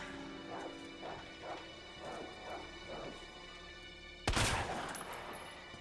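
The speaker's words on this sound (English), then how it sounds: "Oh, there's a dog in here." A dog in the Resident Evil 2 video game barks several times in a steady rhythm at moderate distance, followed by a sudden loud crashing burst near the end.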